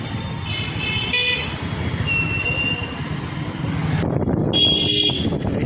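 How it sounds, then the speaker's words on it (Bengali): Vehicle horns toot intermittently over a dense rumble of engines in a heavy road traffic jam, with a louder, rougher stretch of traffic noise near the end. "প্রচণ্ড জ্যাম রাস্তায়"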